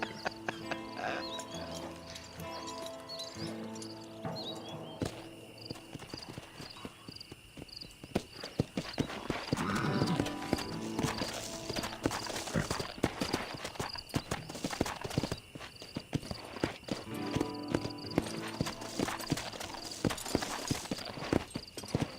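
Horse hooves clip-clop steadily at a walking pace in Red Dead Redemption, close and continuous, over game music and ambience, with a brief whinny partway through.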